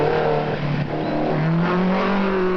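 Rally cars run in the 1981 East African Safari Rally, a continuous droning engine note that rises and shifts as the cars drive on, heard fairly close and steady.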